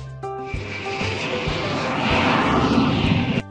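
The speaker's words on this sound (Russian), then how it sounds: "Контроль пройден, и мы садимся на борт большого самолета." A large passenger airplane in a children's cartoon gives a loud, steady engine roar that swells slightly and holds for a few seconds, with faint tonal notes at the start.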